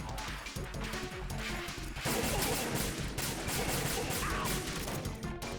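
Gunshots in Metal Gear Solid 2: Sons of Liberty, a dense volley of loud cracking shots and crashing impacts packed over several seconds, intensifying partway through amid constant game noise.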